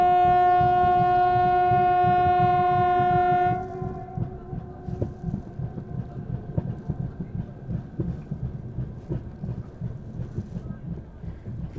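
A special train running from Srinagar to Delhi sounds a long, loud steady horn for about three and a half seconds, then its wheels and carriages rumble on with a rhythmic clatter and a faint lingering tone.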